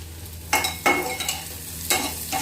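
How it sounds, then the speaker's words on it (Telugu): Curry cooking in a pan, with several short bursts of stirring and sizzling over a steady low simmer, close by and moderately quiet, no talk. "అందులో కూర ఉడుకుతుంది."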